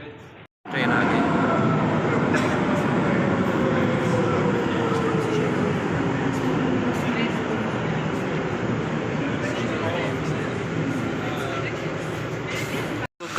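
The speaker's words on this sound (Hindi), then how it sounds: "ट्रेन आ गई।" A train pulls into a European station platform with a sudden swelling, steady roar and rumble that holds loud and continuous for over ten seconds before cutting off.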